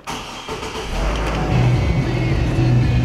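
A Hummer H3 engine cranks and catches, then settles into a steady idle that rises slightly, loud and close with no talking.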